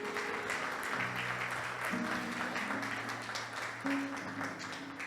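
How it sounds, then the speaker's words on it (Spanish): Congregational applause fills a church service, a steady broadband wash of clapping with sustained organ or keyboard tones running underneath throughout. "Dale un aplauso al Señor"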